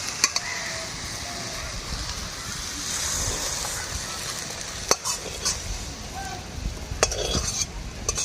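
Jute leaves seasoned with turmeric and salt sizzle quietly in a pan while a utensil stirs and scrapes them, with a few sharp metallic clinks against the pan.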